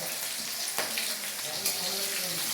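Nigella seeds, bay leaf and green chilli fry in hot oil, a steady, close hiss and crackle with a few sharper pops.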